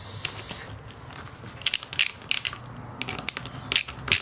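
A wrench ratchets and clicks as parts such as the handlebars, brake and clutch are unscrewed during a bike teardown. Irregular bursts of sharp metallic clicks come close to the microphone over a low background hum.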